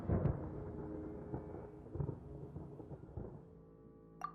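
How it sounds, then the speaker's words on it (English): Thunder in the Genshin Impact video game: a low, rolling rumble with a few heavier swells, fading toward the end, with no talking. "Paimon hears thunder!"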